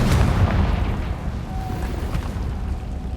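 A Confringo fire spell explodes in the Hogwarts Legacy video game, a loud, heavy blast with a rumbling low-end boom that lingers and fades steadily across the moment, no voices over it.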